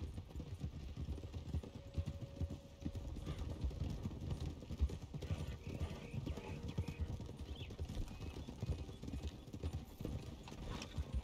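Horses clip-clop at a steady trot through the Red Dead Online game world, dense overlapping hoofbeats with an occasional whinny, loud and continuous across the whole stretch with a voice in the background.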